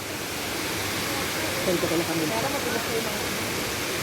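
Balete Falls waterfall roaring as a steady, dense wash of rushing water, close and loud throughout, with faint voices murmuring beneath it.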